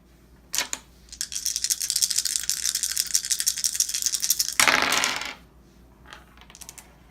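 Several dice rattle in a shaker and clatter onto a table during a tabletop war game, a sharp first clack followed by seconds of rapid rattling and a final tumbling burst, with no talk.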